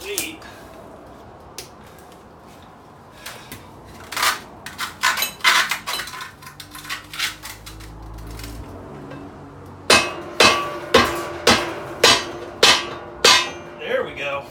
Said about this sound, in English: Tapping a sledgehammer or something. Maybe grab a weight.